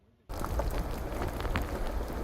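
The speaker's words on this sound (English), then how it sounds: "As the rain comes down," Rain starts abruptly and keeps pouring onto a Bird of Paradise flower farm, a dense steady patter close by with no voices.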